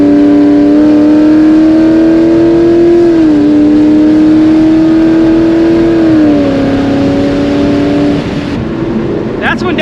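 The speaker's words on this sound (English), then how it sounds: "downshifting to 5th" FBO E85 S550 Mustang engine droning loud and close from the cabin, the steady tone stepping up twice as paddle-shifted downshifts raise the revs, then easing off near the end with a brief clatter.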